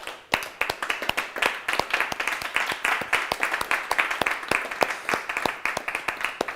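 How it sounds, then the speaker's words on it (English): Applause from an audience at a closing ceremony for a mobility competition: a dense run of sharp, rapid claps from a modest group, steady throughout the clip with no talk on top. "big applause again for Matter"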